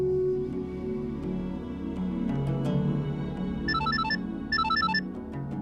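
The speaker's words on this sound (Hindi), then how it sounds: "तुम्हारा फोन बज रहा है। उठाना।" A mobile phone ringtone chimes in two short melodic bursts over a low background hum.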